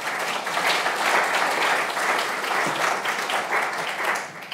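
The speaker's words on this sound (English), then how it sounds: "And also another applause for Joshua, Dani, Itamar." A conference audience claps steadily. The dense, even applause stays loud throughout and fades slightly at the very end.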